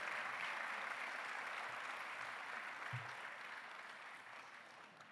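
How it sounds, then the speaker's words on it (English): An audience at a school district management team meeting applauds a high school team coming up, continuous moderate clapping that gradually tapers off, with a soft thump midway. "Let's give them a round of applause as they come up here to our high school team."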